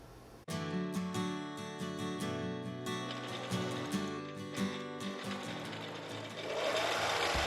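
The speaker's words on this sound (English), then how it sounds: "One person is working on a sewing machine." A sewing machine stitches fabric masks in a rapid, continuous mechanical chatter, close and steady, running alone without voices.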